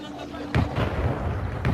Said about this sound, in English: A sound like that of a gunshot rang out in the hospital.